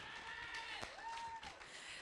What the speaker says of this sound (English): Let's give it a big cheer.